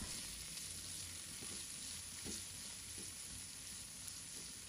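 Red chili stir-frying in a wok with oil, scallion, ginger and garlic, giving a steady faint sizzle with a few soft scrapes of stirring throughout.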